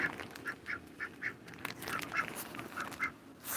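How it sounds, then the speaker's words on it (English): A pet duck on a farm quacks repeatedly in short, evenly spaced bursts, fairly close and clear, with faint outdoor background and no talking. "And my duck is still going for a swim."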